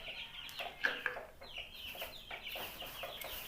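Nine-day-old broiler chicks at feeding time give rapid high cheeps and peeps in overlapping bursts, fairly close and moderately quiet, with no speech.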